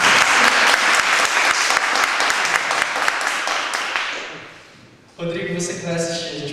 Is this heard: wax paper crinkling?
no